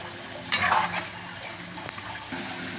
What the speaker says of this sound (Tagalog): lalagyan pa natin ng konting tubig para mapalambot yung manok saka mga gulay na iba